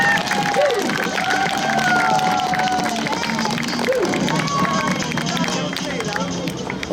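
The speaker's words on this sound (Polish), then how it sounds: "Dajcie jej brawa!" Street crowd watching an entertainer's outdoor performance in Wroclaw, Poland, clapping and cheering in a dense, continuous wash, with voices shouting and whooping over it.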